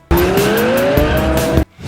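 A Lamborghini Gallardo V10 engine roars for under two seconds, its tone climbing steadily in pitch under hard acceleration, loud and close, then cuts off abruptly.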